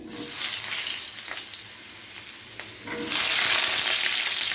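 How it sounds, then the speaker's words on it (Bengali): Potato pieces go into hot oil in a pan for a dry potato dish, and a steady sizzle swells louder and brighter partway through, close and without talk. "তো আমার তেল গরম হয়ে গেছে, এবারে তেলের মধ্যে আমি আলুগুলোকে ছেড়ে দেবো এক এক করে।"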